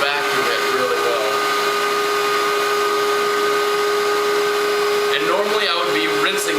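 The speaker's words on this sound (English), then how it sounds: "Normally I would be rinsing this side right now while I'm vacuuming" A Nitty Gritty record cleaning machine runs its vacuum over a vinyl record after a steam cleaning, a constant loud whining drone that stays even throughout, with a brief wavering change toward the end.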